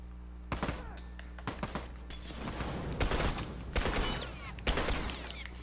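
Rapid bursts of video game gunfire crackle and rattle in several loud volleys over a few seconds, with sharp shot transients and short pauses between clusters.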